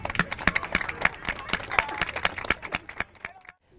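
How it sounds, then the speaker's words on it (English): Scattered clapping from a small group at a Kansas City civic gathering, irregular claps with some voices murmuring underneath, tapering off near the end. "You guys deserve a big round of applause for that."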